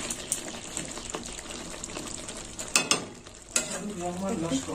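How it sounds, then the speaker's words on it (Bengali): Pieces of Kashmiri chicken stirred and turned in a hot pan, a steady close sizzle broken by scraping, clattering spatula strokes, with a few sharper knocks near the middle and a wetter bubbling toward the end. "চিকেনটাকে এইভাবে কষে নিতে হবে, বারে বারে কষে নিতে হবে, নেড়ে চেড়ে ভালো করে।"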